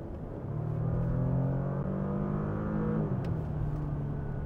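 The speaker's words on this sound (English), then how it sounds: "So it is a real distinguished V6 turbo sound, which you just do not get on the regular e-tron." Audi Q8 55 TFSIe hybrid with a V6 turbo petrol engine, a steady low engine drone rising in pitch as it revs, then settling, heard from inside the car with no talking.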